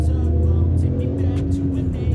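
Inside a Ford Ecosport 1.0 EcoBoost petrol hatchback rated at 125 hp, the small turbo three-cylinder hums steadily and loudly under acceleration, a continuous low drone with faint road noise and no speech.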